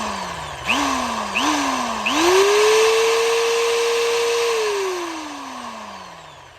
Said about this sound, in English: Drill is on reverse. Stick it in the cable here, and you can watch it go.